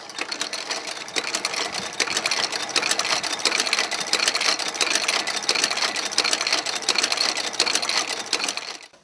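A sewing machine runs steadily in a leather workshop, its needle pounding up and down in a fast, even mechanical rattle close by, continuing for several seconds before stopping abruptly.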